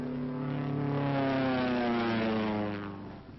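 A propeller aircraft flying low on a skip-bombing run drones with a loud, steady buzzing engine hum whose pitch slides slightly as it passes close, then fades a little at the end.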